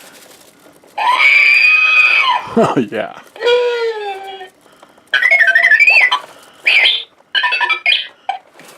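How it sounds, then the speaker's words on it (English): A battery-powered R2-D2 toy shrieks and warbles in loud electronic bursts, sweeping screams and chirping beeps in several separate blasts close by, with a brief voice in between. "There's the R2D2. He's got batteries in it, right? Want to hear him scream?"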